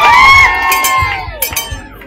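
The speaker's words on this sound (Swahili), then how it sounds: "Wapi makofi ya Chief Commander?" A crowd at a girls' school cultural day breaks into cheering, high whoops and shouts with scattered claps, loud at first and then fading into lighter cries and claps.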